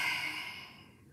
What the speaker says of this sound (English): Exhale, lion's breath.